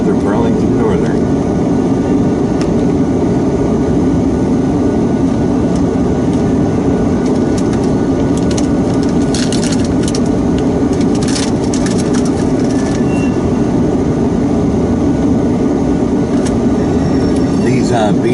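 A long BNSF Burlington Northern manifest freight train passes nearby in freezing weather, making a loud, continuous rumbling roar with intermittent metallic clanks and squeals, and a voice speaks over it.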